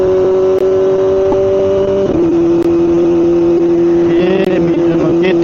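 A motorbike engine drones steadily and loud throughout a ride on a cold day, its pitch holding level and then shifting slightly as the rider changes speed, with faint voices mixed in.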